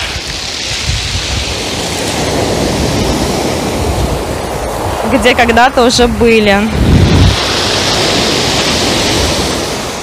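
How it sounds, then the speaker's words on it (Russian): Stormy sea surf breaks on a pebble beach at Adler in September, a constant loud roar of waves mixed with heavy wind buffeting the microphone. A person speaks briefly midway over the crashing water. "Море очень сильно штормит"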